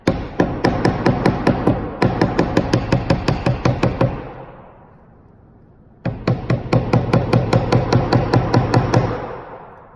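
Wire for earring hoops is hammered in rapid, even metallic strikes, two long close bursts of steady tapping separated by a brief pause.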